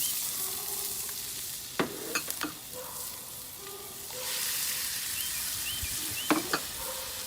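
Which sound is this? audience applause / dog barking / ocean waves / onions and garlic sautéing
onions and garlic sautéing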